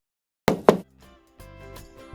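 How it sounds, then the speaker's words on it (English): A soft knock on window glass, two quick taps close together, followed by a faint lingering ring and a low hum. "Suddenly, a soft knock on the glass startled her."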